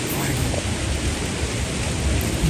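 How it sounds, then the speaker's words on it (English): Rain falls outside in a home garden, a continuous dense hiss of drops close by, steady and even throughout with no other clear sound. "Listen to the sound of the rain."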